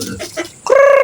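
Chickens being fed let out a brief, loud cluck and squawk, close by, after a moment of low murmuring.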